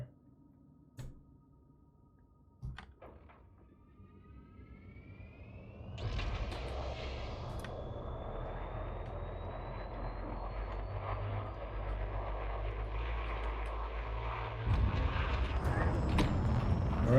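A spacecraft takes off in a space video game, opening with a few clicks before a rising engine roar kicks in and holds loud, with a whining tone sweeping upward above it and a final surge near the end.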